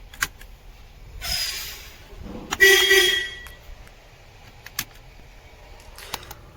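The secondary city horn on a Mercedes-Benz Actros truck gives one short, fairly loud blast, surrounded by faint clicks and a softer rustle in an otherwise quiet cab.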